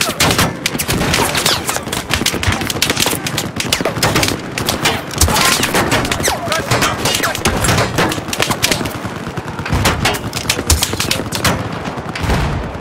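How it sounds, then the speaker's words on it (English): Relentless automatic gunfire and fusillades from a Battlefield 4 conquest match, loud and dense throughout with overlapping bursts, a voice occasionally talking underneath. "Oh wait, Hagrid, that's me shooting you"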